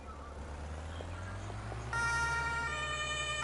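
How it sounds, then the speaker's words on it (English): Low vehicle engine hum in Farming Simulator 25, then a siren suddenly switches on partway through and wails steadily and fairly loud to the end. "Turned my siren on."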